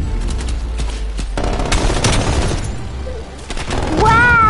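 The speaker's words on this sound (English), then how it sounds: "Sentry turret ready to fire." Sentry turret in a video game rattles off rapid bursts of automatic fire with booms and pops, loud and close, broken by a brief lull before a final heavy burst.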